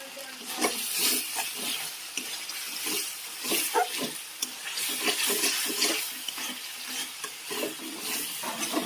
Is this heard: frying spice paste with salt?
yes